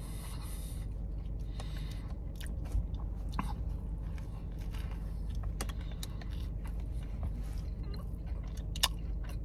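Someone bites and chews a candied bacon Whopper burger with crispy onion, heard as continuous close, crunchy chewing with sharp crackles over a steady low background rumble, no talking.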